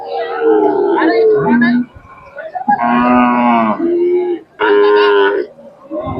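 A Khillar cross cow at the Sangola cattle market in Maharashtra lets out several loud, drawn-out moos close by, with brief pauses between calls.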